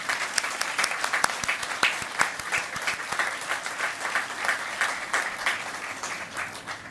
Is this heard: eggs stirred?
no